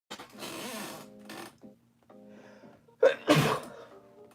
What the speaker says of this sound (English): Oh man, I gotta sneeze.